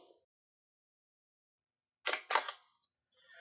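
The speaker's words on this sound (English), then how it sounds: "And what I'll do is I'll just take a test shot." A DSLR camera shutter fires during a tabletop fruit photo shoot, a crisp double mechanical clack close to the microphone, followed by a faint click and soft handling noise in quiet surroundings.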